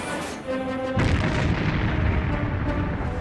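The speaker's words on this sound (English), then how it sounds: "SS Munich is the first hit. Filled with iron ore, it sinks in seconds." A torpedo strikes a cargo ship loaded with iron ore, setting off a sudden heavy boom that rolls on as a long, dense rumble after a quieter opening stretch.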